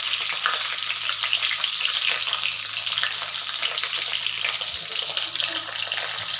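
Loud, continuous sizzling of capsicum (dhobli mirchi) frying in hot oil, held steady throughout, with faint scraping of stirring underneath and no talking.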